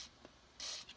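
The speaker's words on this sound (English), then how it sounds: "put a little squirt right here and a little squirt right there" Two short hissing bursts of dry lube spray squirted onto a car seat belt retractor mechanism, the first brief and faint, the second longer and louder, close up in a quiet space.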